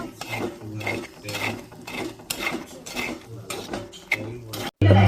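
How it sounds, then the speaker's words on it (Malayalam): A spoon repeatedly scrapes and clatters through a tomato mixture in a metal pot, making irregular stirring strokes in bursts close up, with a brief pause and thump near the end. "അപ്പോൾ നമ്മളിതുപോലെ ഇളക്കി കൊടുത്തിട്ട് എന്ത് ചെയ്യാം, നന്നായിട്ട് മിക്സ് ആക്കി കൊടുക്കുന്നുണ്ട്"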